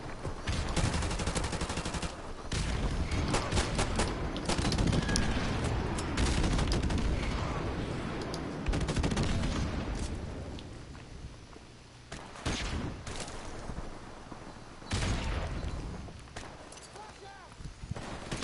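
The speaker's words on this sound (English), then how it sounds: "Friendly airstrike on the way." Airstrike explosions and gunfire in Modern Warfare Remastered, a dense barrage of sharp bursts and booming blasts across the first half, then scattered loud shots and rumbling impacts, with voices talking over the battle.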